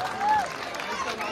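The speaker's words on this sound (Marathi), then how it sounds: "जोरदार टाळ्या वाजवा" A brief burst of crowd applause and clapping rises at a village Dahi Handi festival in Atali Koliwada, Maharashtra, mingled with crowd noise and a thin whistle-like tone.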